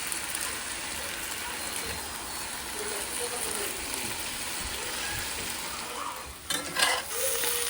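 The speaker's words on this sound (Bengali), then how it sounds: "কালকের আলু আর লাউ জাস্ট একটু ভাজা ভাজা করে নিচ্ছি ডালের সাথে" Leftover potato and bottle gourd fry in a pan with a steady, even sizzle, broken near the end by a few scraping stirs of the spatula.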